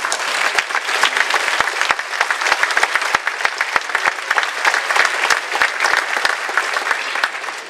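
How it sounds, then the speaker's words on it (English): A room full of people applauds continuously at a college commencement, a dense steady patter of clapping that neither swells nor fades. "we could give you a round of applause"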